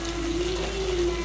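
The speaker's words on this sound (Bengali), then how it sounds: "এখন একটু পানি দিয়ে দিচ্ছি।" Water pours steadily into a pan of spiced fish curry cooked with ginger, garlic, cumin, turmeric, chili and yogurt, a short continuous gush with a steady tonal hum underneath, close and fairly loud.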